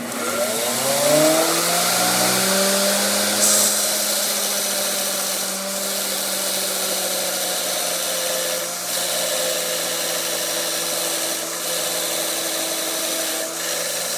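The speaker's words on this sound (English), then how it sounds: "I want to grind a bevel on here, so I just clamped a piece of stock to the plate on this grinder" A bench grinder runs continuously as it grinds a bevel on a clamped piece of steel stock, its steady motor whine settling into a constant drone that holds for the whole stretch.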